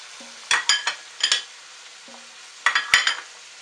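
Prawns cook in a pan on low to medium heat for pinakbet, with short bursts of sizzling and spatula scrapes coming in clusters between quieter stretches.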